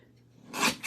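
Scissors snip through card stock while trimming a fun fold card piece closely, giving a quiet close crisp cut that swells briefly then a second short snip right after.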